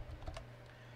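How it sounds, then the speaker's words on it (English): A few quick, light keystrokes on a computer keyboard as a student's last name is typed into an online roster, brief and fairly faint, with no voices. "Begin typing in the student's last name."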